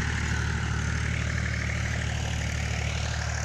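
A Mahindra 265 tractor pulls a cultivator at full depth in a field, its engine a loud, steady, low droning rumble that holds without pause from start to finish.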